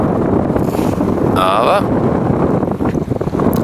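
Strong wind buffets the microphone on a foggy pier at the Baltic seaside resort of Grömitz, a constant rumbling roar, with someone talking briefly over it.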